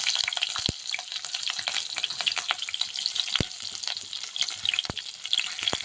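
Cumin seeds and green chillies crackle and spit in hot oil for soybean rice, a dense close sizzle studded with sharp pops and a few louder snaps, with no talking.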